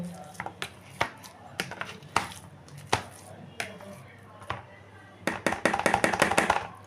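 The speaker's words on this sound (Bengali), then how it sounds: "আলুগুলোকে আমি এই ম্যাশারের সাহায্যে ভালো করে ম্যাশ করে নেব" Boiled potatoes pressed repeatedly with a potato masher, irregular soft thuds and squishy knocks close by, quickening into a rapid run of taps near the end.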